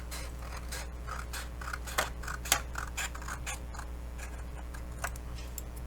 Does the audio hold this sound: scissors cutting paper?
yes